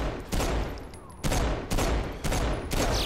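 Video game gunfire from dual-wielded guns in Saints Row IV, loud rapid bursts of shots in several close volleys over steady game ambience.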